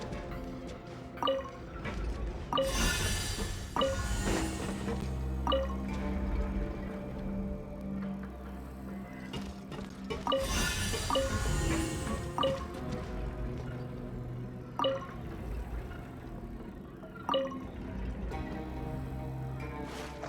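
Water rises and pours inside a mechanism in Genshin Impact, with a steady liquid wash punctuated by repeated dripping plinks and splashy bursts. The sound is moderately loud and heard alone.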